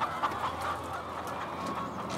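Laying hens on a large commercial poultry farm holding about 200,000 birds, heard as a steady, faint chorus of overlapping clucks and cackles with no single bird standing out.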